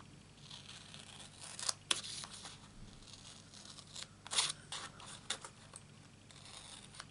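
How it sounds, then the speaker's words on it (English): Paper snips cutting a piece of vellum in a crafting session, a few sharp, quiet snipping clicks scattered over soft handling noise, close to the microphone, with no speech. "And then with my paper snips, I cut it out."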